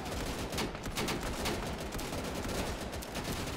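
Continuous rattling gunfire from the World War II shooter Easy Red 2 fills a few seconds, a dense distant fusillade of overlapping shots at steady moderate loudness with no voices.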